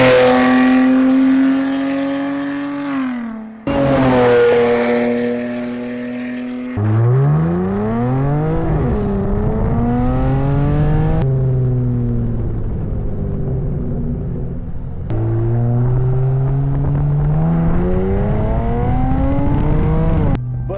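A V6 car engine with an H-pipe exhaust revs hard several times, pitch sweeping up and falling back in loud, throaty bursts with a deep exhaust rumble between pulls.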